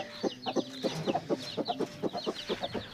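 A native-breed hen clucks in a steady run of short, close calls, with a faint high chirping of chicks behind her; no one speaks.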